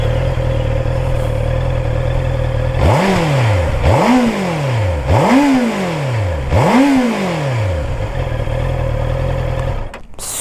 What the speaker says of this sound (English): Such a sweet sounding motorcycle.